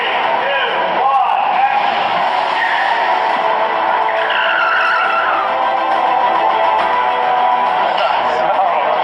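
A car chase from Captain America: Civil War roars on continuously, engines straining and tires squealing in long skids over a dense, loud mix of traffic noise.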